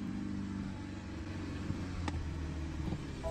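BMW M car engine idling and lightly revving nearby, a low steady rumble with a few small throttle blips and no talk.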